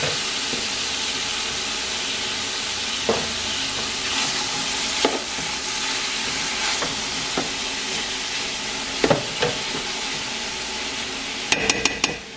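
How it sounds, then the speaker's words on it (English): Bacon fries in a cazuela with a steady, dense sizzle and hiss, and a few clinks and stirring scrapes of a utensil against the pot stand out now and then; no one speaks. "Aquí vamos a dejar el bacon que se cocine un poquito."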